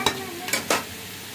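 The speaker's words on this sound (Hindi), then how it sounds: "अब हम इसके अंदर जो है ना शिमला मिर्च डालेंगे, कटी हुई शिमला मिर्च" Chopped capsicum being stirred into partly cooked carrots in a pan, with three quick scraping strokes over a faint sizzle that fades out toward the end.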